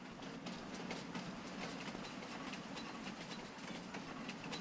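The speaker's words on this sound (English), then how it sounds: "Ah, the train." Steam train in Farming Simulator 25 rolling past at a train station, a steady broadband rumble and hiss with faint rhythmic clatter throughout, moderately distant and continuous.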